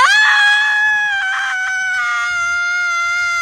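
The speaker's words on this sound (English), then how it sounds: "highly recommend finding a quiet place in nature and screaming" A single long, loud human scream rings out and slowly fades across several seconds, recorded outdoors in a quiet natural setting.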